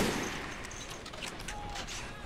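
A heavy machine gun unit firing in Men of War: Assault Squad 2, a steady wash of rapid shots and battle noise at moderate level, continuous throughout.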